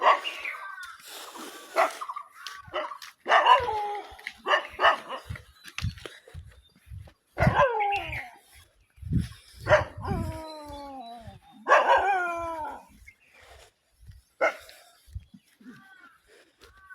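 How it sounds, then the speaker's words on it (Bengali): A dog barks repeatedly in loud, irregular bursts with some yips and whimpering tones, close by, with occasional voices in the background, in a village in the morning. "এই যে কুকুর ডাকছে আমার কামড়ে না দেয়"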